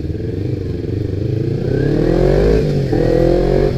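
A Kawasaki Ninja 250 sport motorcycle engine rumbles steadily up close, its pitch rising as it accelerates while riding.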